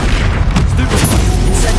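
Bombarda spell blasts in Hogwarts Legacy, a dense, loud run of booming explosive impacts and rumble filling the whole moment, with a voice faintly mixed in.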